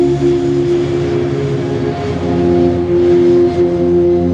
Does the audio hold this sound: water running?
no